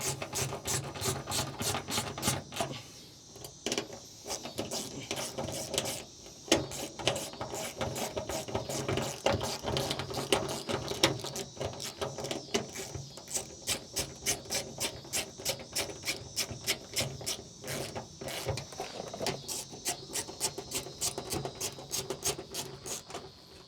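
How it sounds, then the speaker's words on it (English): A hand ratchet and socket working bolts on a 2023 Ford F-150, rapid steady clicking of the pawl in long runs with brief pauses, close and fairly quiet, no speech. "we gotta go old fashioned with the actual ratchet and socket"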